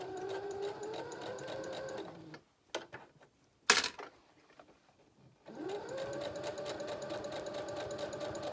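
A sewing machine stitches elastic binding onto a romper neckline, a steady close whirring run that stops for a few seconds of clicks and a brief rustle, then starts up again and runs evenly.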